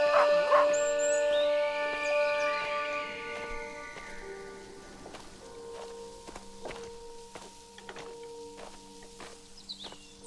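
Dog barking, yipping and howling in the horror video game Maid of Sker, loud at first and then fading into sparse noises over sustained eerie tones and footstep-like clicks.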